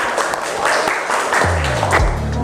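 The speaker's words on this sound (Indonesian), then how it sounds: "Kita kasih tepuk tangan ya untuk teman kita." A classroom of students claps for a classmate after a group presentation in an accounting class. The applause is brisk and scattered, and a voice begins speaking near the end.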